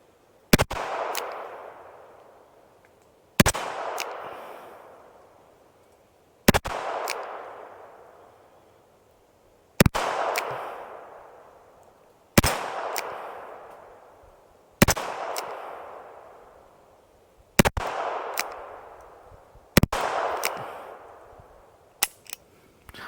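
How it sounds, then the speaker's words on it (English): Eight single-action shots from a Charter Arms Pathfinder .22LR revolver firing Federal bulk ammunition, each a sharp loud crack followed by a decaying echo, spaced a few seconds apart outdoors. "Got the pistol loaded up here with 8 shots. Federal bulk ammo, nothing special."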